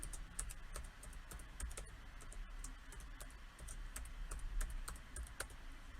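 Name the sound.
typing a password on a computer keyboard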